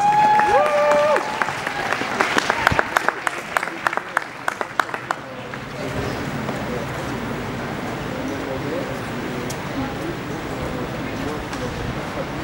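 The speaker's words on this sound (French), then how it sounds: "On peut les applaudir bien fort." An audience at an occupied opera house in Brussels claps for students about to play a Schubert string trio, with sharp nearby claps and a voice over the start before the applause settles into a softer, continuous crowd murmur.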